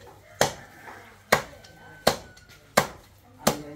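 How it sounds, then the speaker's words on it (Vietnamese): A cleaver chops bony duck pieces into coarse chunks for soup, five sharp, loud thwacks landing at an even, unhurried rhythm about a second apart, each ringing briefly on the board. "còn chỗ nào xương xương cho vào nấu canh băm to to tí"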